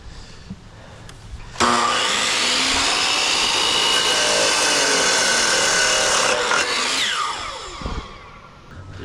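A power saw cuts through wood in one continuous, loud, whining pass of about five seconds, then spins down, with faint workshop noise before and after.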